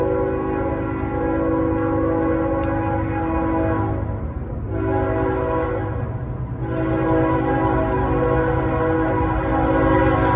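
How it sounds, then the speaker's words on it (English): A train passing close by with a sustained, loud horn blowing steadily over rumbling wheels, briefly dipping before sounding again. "there's a train coming by"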